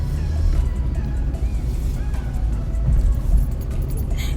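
Car cruising around a traffic circle in Norwich, Connecticut: a steady low engine and road rumble from inside the cabin, fairly loud and even throughout, with no talk.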